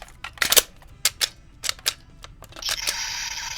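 Kamen Rider Gashat capsule toy in a holster holder playing its attack sound effect, a quick burst of sharp clicks and tinny electronic blasts ending in a bright sustained tone, close and small-speakered.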